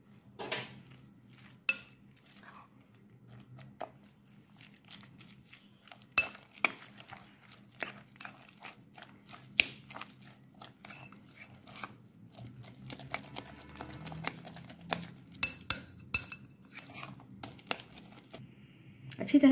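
Chicken pieces are mixed with egg and cornflour in a bowl, a run of scattered clicks, scrapes and soft squelches of a spoon against the bowl, growing busier toward the end.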